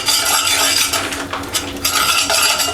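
A spoon scrapes and clinks around a pan, stirring about four tablespoons of Mae Ploy yellow curry paste for Thai chicken curry, with continuous close scraping and light metallic clatter and no talking.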